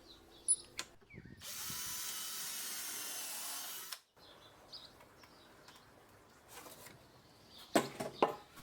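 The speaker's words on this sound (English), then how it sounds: "we can attach it with two screws at each end" A power drill drives a screw into the wooden brace of a pallet picnic bench in one steady, whirring run of about two and a half seconds. Faint knocks, clicks and chirps of birds follow in a quiet outdoor setting, with no speech.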